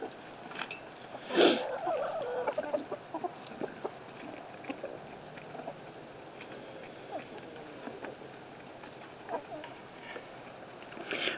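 A rooster and hens cluck and stir inside a coop as a new rooster joins the flock, with soft, scattered calls, light rustling and faint voices throughout.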